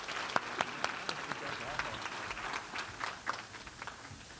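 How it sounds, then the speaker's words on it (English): Faint, sparse clapping from guests at the Boston Public Schools valedictorians luncheon, with separate claps popping out over a low murmur of talk for several seconds. "Let's give him one more round of applause."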